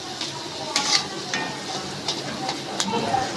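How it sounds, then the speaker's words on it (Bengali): A paste of ground fish and onion fries on low heat in a kadai, a soft continuous sizzle with occasional scraping stirs of a spatula, close and steady. "আমি আঁচটা কম করে এইভাবে সুন্দর করে আরেকটু ভেজে নিচ্ছি"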